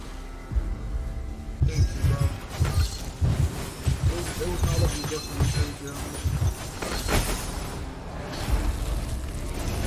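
Repeated grenade blasts and shattering booms from a frantic round of Gunfire Reborn, a series of heavy low thumps at an uneven rhythm layered under game music and excited players talking over it.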